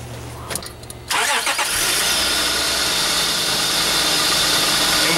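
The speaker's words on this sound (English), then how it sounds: "I'm gonna go ahead and start the vehicle up" A vehicle engine is started during a charging-system test with a heavy-duty battery load tester: a short cranking whir, then the engine catches and settles into a steady, loud idle that runs to the end.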